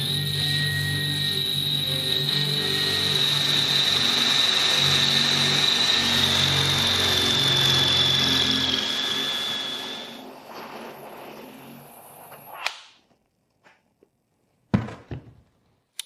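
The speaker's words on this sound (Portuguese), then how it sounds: "Ok, função de furadeira regular, vamos colocar um relógio e ver quanto tempo leva para colocar essa broca." A cordless drill in regular drilling mode whirs loudly and steadily for about ten seconds, winds down, then a few sharp clunks and taps follow in near silence.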